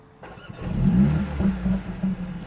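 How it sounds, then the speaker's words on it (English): A 2021 Mercedes CLA45s AMG fires up with its launch start sequence, a deep engine rumble swelling into a brief rev and then settling into a burbling idle, close and fairly loud. "So let's kick off with an AMG emotion start."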